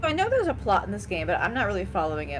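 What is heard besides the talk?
No distinct noise like a dog, phone or traffic.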